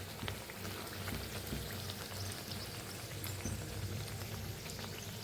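Potato puris deep frying in hot oil, a steady dense crackle and bubbling that runs evenly throughout at close range, with no voices.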